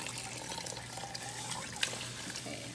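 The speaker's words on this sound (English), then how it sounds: "you're gonna add in more water." Water is poured into a soup pot holding onions and sweet radish for a Khmer fresh noodle soup, a steady, fairly quiet splashing trickle with no one talking.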